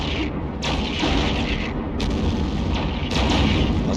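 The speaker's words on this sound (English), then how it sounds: "We're getting rocked by missiles" Missiles pound a ship in EVE Online, with several heavy, booming impacts arriving at irregular intervals over a constant low rumble, loud and close.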